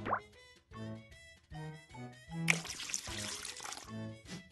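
A cup of water poured while baking in a children's video game, a short burst of pouring and splashing midway, surrounded by bright tonal game music phrases before and after.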